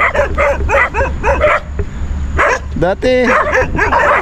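Several dogs bark in quick, rhythmic volleys close by, with a brief yelp and a voice speaking partway through.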